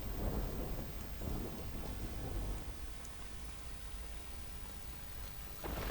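Heavy rain pours steadily on the town of Bilimora with a dense, rumbling roar, loud and close throughout, with no voices.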